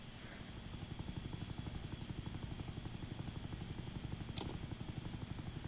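An army helicopter in the Roblox game Jailbreak gives off a steady, rapid rotor chop, an even rhythmic thrum at low volume that continues unbroken, with one brief higher click near the end.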